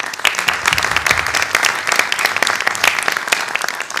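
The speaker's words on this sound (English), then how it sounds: "Let's give them an applaud." An audience at a report launch event in Helsinki breaks into steady, sustained applause, a dense patter of many hands clapping at moderate distance with no voices over it.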